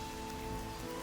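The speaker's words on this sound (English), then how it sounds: "it begins to drizzle." Light rain drizzles steadily, a continuous soft patter with no pauses.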